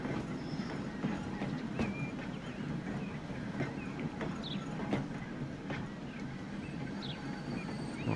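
A train in the Transport Fever railway game rumbles along quietly and far off with a soft, even rolling clatter, no voices.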